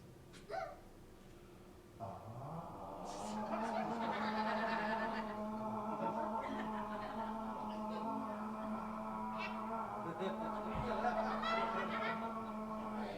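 A person imitates a shrill, wavering scream with a honking, goose-like quality, loud and sustained for several seconds with a few catches.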